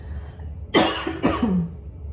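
Two sharp, close coughs in quick succession, the second trailing into a raspy rumble, with near silence before them.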